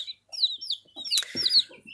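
Several small Amrox chicks peep in high, thin chirps, scattered and close, with occasional soft lower clucks between them.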